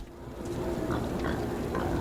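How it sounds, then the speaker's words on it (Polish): Pigs grunting in the video game Metro Last Light Redux, low snorting grunts repeated a few times over a steady, noisy game background. "Mamy świnioki."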